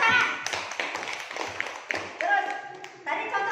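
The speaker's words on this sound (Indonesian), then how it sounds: "Bagus, terima kasih. Tepuk tangan." Schoolchildren in a classroom clapping their hands, scattered uneven claps and taps from a small group, mixed with voices talking in the room.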